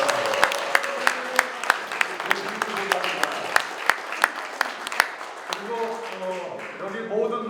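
Guests at a Korean church thanksgiving service for a new general assembly president's inauguration are welcomed with steady rhythmic clapping that fades out, while someone speaks over a microphone and the room's talk continues.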